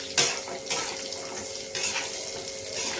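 Walnuts lightly roasting in a pan, giving a soft continuous sizzle with a few sharp scraping stirs, close by and at moderate volume, with no talking.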